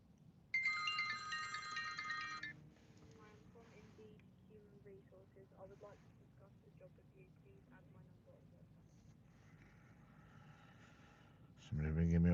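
A phone ringtone sounds as a loud, bright electronic burst lasting about two seconds, followed by quieter background noise with a voice talking.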